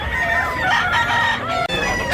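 Roosters crow loudly and close by in Tabunok, Cebu, overlapping calls drawn out over a steady farmyard background.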